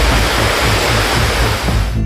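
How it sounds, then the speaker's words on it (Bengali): Iguazu Falls on the Brazil–Argentina border roars as a loud, steady, unbroken rush of falling water that fills the whole clip with no voices. "ইগুয়াসু জলপ্রপাত।"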